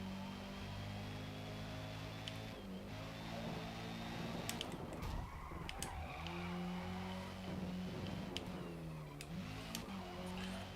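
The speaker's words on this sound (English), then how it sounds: "MX-5 sounds good in the tunnels" A Mazda MX-5 races in Forza Motorsport, its engine droning and shifting pitch as it revs through gears in a tunnel, with brief tire squeals and skids, steady and moderately loud.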